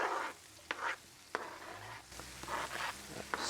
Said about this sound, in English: I'm just going to cook these onions, right, till they soften up and get a little brown.